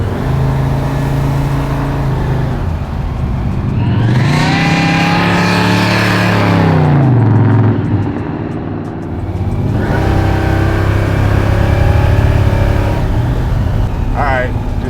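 A blown big-block engine in a 1966 Chevelle SS pro-street muscle car, rated at 850 horsepower, revs loud and close in rising and falling surges, with people talking over it.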